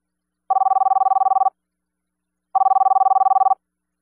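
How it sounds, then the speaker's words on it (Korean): A telephone ringback tone sounds as a call goes through, two identical pulsed ringing bursts about a second long, separated by a gap of silence, clear and steady. "진수 씨는 그 번호로 전화를 걸었습니다."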